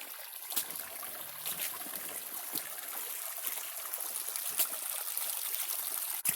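Continuous rushing and trickling water pours steadily over a small waterfall into a gold sluice, with bright splashy texture and occasional louder splashes close by.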